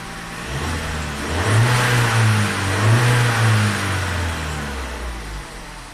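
Chevy Cruze engine that has been running rough and rich with a lean condition, revving up twice with a rising mid-pitched roar, then settling back toward a steady idle, close by with no talk.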